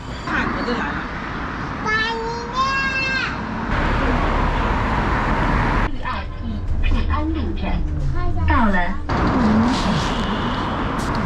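Steady rumble and road noise while riding a city bus through traffic in China, with occasional higher tonal squeals and chirps, under near-continuous talk.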